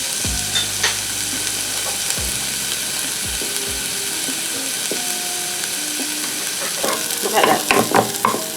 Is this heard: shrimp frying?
yes